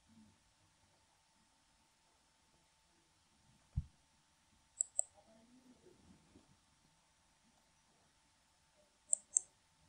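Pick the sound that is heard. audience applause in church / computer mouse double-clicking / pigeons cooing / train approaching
computer mouse double-clicking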